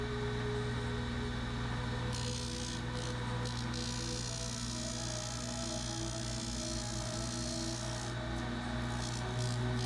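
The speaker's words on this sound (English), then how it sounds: "My disc is going way too fast and it melts the plastic easily" A fast-spinning disc sander shapes a plastic zero-clearance insert, giving a steady loud whine with a continuous abrasive rasp and brief shifts in pitch as the plastic is pressed on, with no talking.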